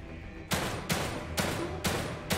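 Five evenly spaced pistol shots in The Evil Within 2, each a loud, sharp crack with a short echoing tail, fired at a steady pace of about two per second.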